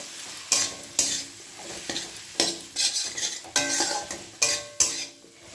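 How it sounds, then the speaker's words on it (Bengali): Spring onion stalks stir-fried in a pan, quiet sizzling broken by repeated scraping strokes of a utensil against the pan at an irregular rhythm, close up with no voices. "পেঁয়াজ কলিটা আমি এক দু সেকেন্ড নাড়াচাড়া করেই"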